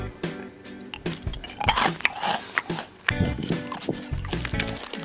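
Crunchy snack from Japan being bitten and chewed close to the mic, with crisp irregular crunches and brief pauses between bites, without talk over it.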